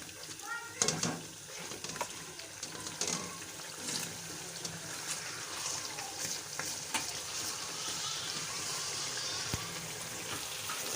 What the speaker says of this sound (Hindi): मिक्स करेंगे इसको अच्छे से।